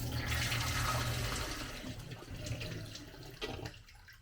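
A homemade vapor blaster's water pump switches on and runs, giving a steady rushing, splashing wash of water that stays fairly quiet and continuous before easing slightly toward the end.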